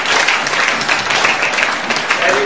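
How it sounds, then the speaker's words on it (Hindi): Audience applause at a student talk on 21st century skills, a dense, loud, continuous burst of many hands clapping with no pauses, close and filling the whole moment. "एक बार तालियां बजा दो जरा इस क्वेश्चन के लिए।"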